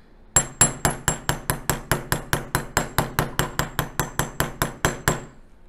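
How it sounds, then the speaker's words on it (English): Steady, evenly spaced hammer taps on a metal stamp imprinting a metal pendant, about twenty sharp ringing strikes in a quick regular rhythm, close and clear with no talking. "I'm going to be just tapping my hammer"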